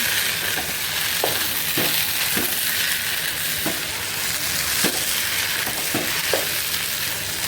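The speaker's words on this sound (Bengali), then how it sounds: "চাল ভাজার শব্দ হতেছে" Raw rice frying in a pan for chicken biryani, a loud continuous sizzle with periodic scrapes and clacks of a spoon stirring every second or so, close up and with no voices.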